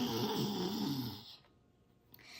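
A child imitates a white lion with a breathy, raspy growl-like roar, loud at first and then trailing off into quiet breath, a single short vocal burst.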